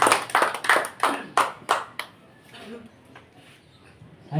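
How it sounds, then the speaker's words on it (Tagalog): A church congregation claps hands in praise in a series of about seven loud, rhythmic claps over two seconds, followed by quieter room sound. "Yung buhay na palakpak sa ating Panginoon."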